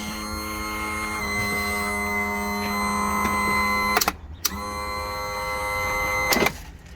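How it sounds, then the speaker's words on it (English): A Yamaha outboard motor's power tilt raising the engine, a steady electric motor hum with tonal harmonics for about four seconds, a brief stop, then a second short run ending in a clunk. "So lift the motor up, it's standard lift."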